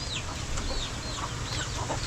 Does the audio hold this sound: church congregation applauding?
no